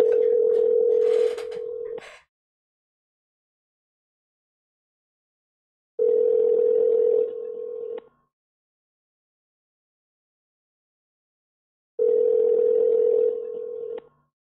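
Telephone ringback tone while a call is placed: three steady buzzing rings, each about two seconds long, separated by roughly four seconds of silence, clear and alone with no voices.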